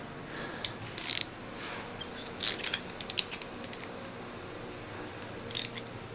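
A wrench tightens a 14mm nut on a Toyota 1KZ-TE engine head in a Prado 90 series, giving sharp ratcheting clicks in short irregular bursts, close up over a quiet background.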